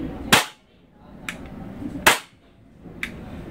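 WE Glock 19x Gen 5 airsoft pistol firing into a chronograph: two sharp, loud cracks about two seconds apart, each followed a second later by a fainter click, in a quiet room.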